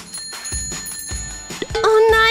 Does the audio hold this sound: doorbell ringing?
yes